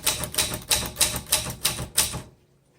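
A 1960s Olivetti-Underwood 21 vintage typewriter taps out about six evenly spaced sharp clacks up close, then falls silent.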